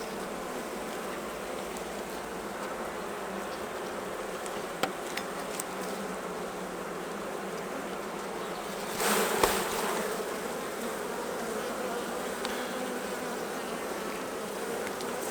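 Honeybees buzzing steadily at an open hive during a colony split, a dense, continuous drone with a brief louder swell near the middle and no talk.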